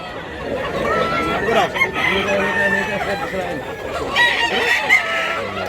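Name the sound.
rooster crowing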